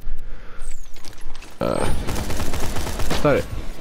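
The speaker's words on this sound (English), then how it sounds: "I like how it shoots out the grenades like that" A Borderlands 2 gun lobbing corrosive grenades in rapid fire, with dense, loud shots and blasts after a brief lull, and game effects whistling over the top.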